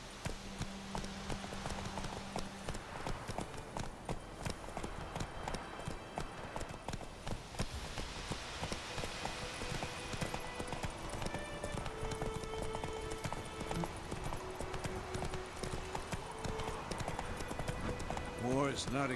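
Roach, Geralt's horse in The Witcher 3: Wild Hunt, galloping with a rapid, continuous drum of hoofbeats throughout, while voices and a background music score play alongside.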